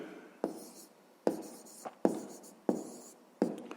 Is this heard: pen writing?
yes